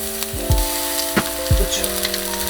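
Eggplant slices frying in olive oil in a pan give a steady close sizzle with several sharper crackles and pops.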